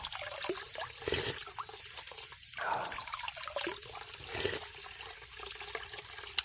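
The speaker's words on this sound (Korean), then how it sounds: "물소리만 들어도" Mountain spring water trickles and burbles steadily at close range on a hillside, a continuous gentle flow with small splashes and no voices.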